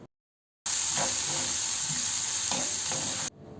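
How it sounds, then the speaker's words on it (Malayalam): Chopped onions and green chillies sautéing in a pan, a steady close sizzle with occasional stirring scrapes, broken by a short silent gap near the start. "എന്നിട്ട് നമുക്കിതൊന്ന് വഴറ്റിയെടുക്കാം"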